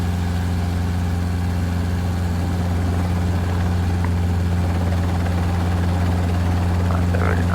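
A helicopter lands at a middle school during a teach-in day, its rotor and turbine producing a loud, steady droning thrum that stays constant and close throughout, with no voices.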